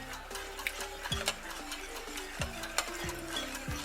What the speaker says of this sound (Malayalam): ഞാനിങ്ങനെ ഒരു വിസ്ക് വെച്ചിട്ടാണ് മിക്സ് ചെയ്യുന്നത്.